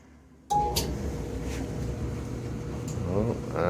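A Whirlpool Cabrio WED8000DW4 clothes dryer starts up after a squeak repair, giving a sudden steady hum and tumbling rumble with a short beep at the start and occasional light knocks, no squeal evident.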